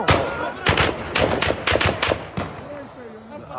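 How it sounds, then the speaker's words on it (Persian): Bursts of gunfire fired to disperse a crowd at the gate of Kabul airport during the Taliban takeover in August 2021, several loud sharp shots in uneven clusters amid crowd noise and voices. "این صدای فیران هم که میشنویم جهت پراکنده مردم از"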